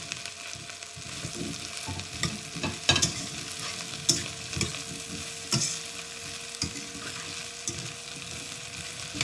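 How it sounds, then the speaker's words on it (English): Okra being stirred into a pan with softened onions, ginger and garlic, giving a steady low sizzle broken by scraping spatula strokes and a few sharper clacks against the pan. "So let us add the okra."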